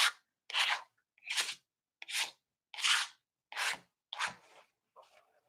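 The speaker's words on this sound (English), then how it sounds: "I'm scraping some of the color." Color being scraped off a book page: seven short, dry, raspy strokes in an even rhythm, each about half a second, close and distinct against silence, with a fainter scratch trailing at the end.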